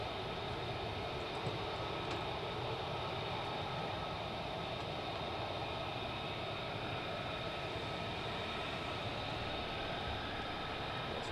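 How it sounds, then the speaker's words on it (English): F-35 fighter jets taxiing at RAF Lakenheath: a steady, heavy jet engine roar with a high whine on top, sustained and unbroken, heard from some distance outdoors. "The next set of F-35s that we were waiting for starting to taxi round it as well."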